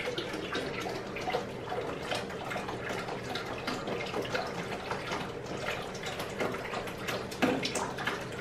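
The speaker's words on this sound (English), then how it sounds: "let me pour this little bit in here right quick." Water is poured into a reptile tank, producing a continuous splashing, trickling stream with small drips, steady and close throughout.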